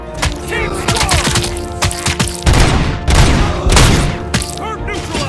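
Rapid bursts of automatic gunfire and heavy impacts in the RoboCop: Rogue City video game, loud and dense, with shouted voices mixed in.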